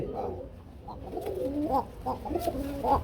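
Pigeons coo in a quick series of throaty, rising calls, close by and fairly quiet, with soft farm background noise and no talk over them.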